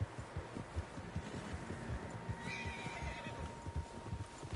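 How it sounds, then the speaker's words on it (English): Several horses whinny and neigh over a dense bed of hoofbeats and rumbling movement in Red Dead Redemption 2, one whinny standing out in the middle. "Horses, quite a few of them."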